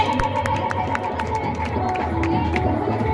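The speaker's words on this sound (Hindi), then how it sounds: "तो कृपया करके आप लोग ताली बजाते रहिए।" At a school Teachers' Day award ceremony, an audience claps in a quick, steady rhythm, filling the hall with dense applause and some background voices.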